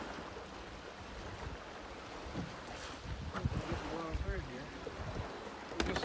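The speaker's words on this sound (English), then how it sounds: "This wind is killer." Strong wind buffets a bass-fishing boat on Douglas Lake, a steady broadband rush and roar with gusts swelling toward the end and water lapping beneath, with no voices.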